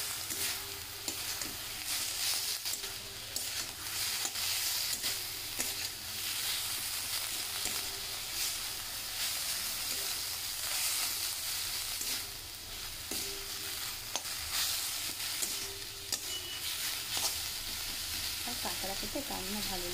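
Spices sizzle steadily in hot oil as chopped capsicum and tomato are stirred through them in a pan for masala crab, a continuous close frying hiss with light scraping, with no voices.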